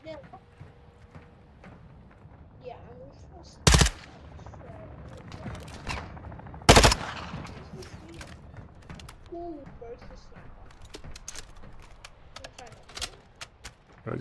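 Gunfire in Call of Duty DMZ sounds as two loud, isolated shots a few seconds apart, surrounded by faint clicks, footsteps and game ambience, with voices talking in the background.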